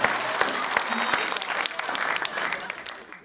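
Loud, dense applause from a stage-show audience fills the air as a poet is welcomed, with a steady wash of clapping and some crowd noise that tapers off near the end.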